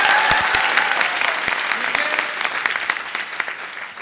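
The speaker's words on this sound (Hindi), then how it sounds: "एक बार जोरदार हाथ ताली होना चाहिए उसके लिए" An audience at a Smart Value training program in Sagar gives close, steady applause, a dense patter of hand claps that stays strong for the whole stretch with a few sharp individual claps standing out.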